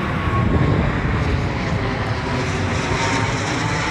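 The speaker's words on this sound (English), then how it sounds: "it's a plane overhead" A propeller plane passes overhead outdoors, its engine a steady, loud, broadband drone that holds level for the whole few seconds with no voices over it.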